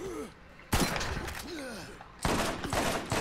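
In the video game Borderlands, two loud, close gunshots crack out about a second and a half apart, each followed by a short rattling tail, over a busy backdrop of game sounds and creature calls.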